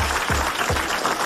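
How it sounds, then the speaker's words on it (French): A studio audience at a French radio comedy panel show breaks into loud, steady applause, a dense wash of clapping filling the room with no voices on top. "vous allez applaudir comme il le mérite"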